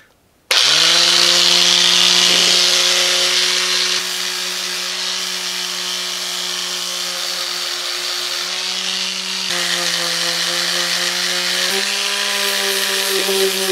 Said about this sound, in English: after sanding with a couple different grits of sandpaper, it's starting to look pretty good